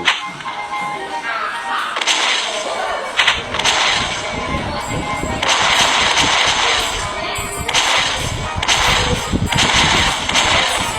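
Repeated heavy booming blasts of cannon fire in a stickman video game, several bursts spaced irregularly over constant loud background noise.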